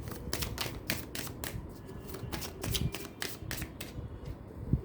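Tarot cards are shuffled and drawn during a Hindi pick-a-pile reading: a steady run of soft, quick riffling flicks and taps, close and faint, with no talk.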